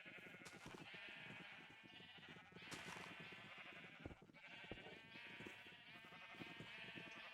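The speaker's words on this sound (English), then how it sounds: "So somehow we're going to have to wrangle all of these sheep over into a different area." Sheep in the video game Minecraft, a flock bleating repeatedly in overlapping bursts, the calls loud and close and continuing throughout with no talking.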